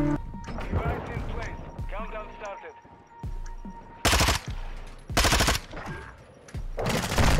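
Gold Vaznev rifle fire in a video game comes in loud, rapid automatic bursts, several separate volleys crackling up close, with a player talking between them.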